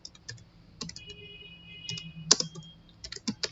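Keys clack on a computer keyboard in short irregular bursts of typing, close and fairly quiet, with brief pauses between groups of keystrokes.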